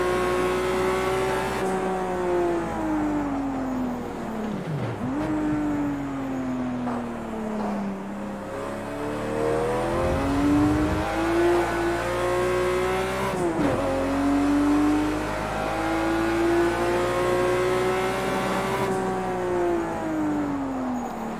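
Race car engine in a VR sim racing game, revving continuously with rising and falling pitch through gear changes, sharp drops at shifts and braking, loud and steady throughout with no talking.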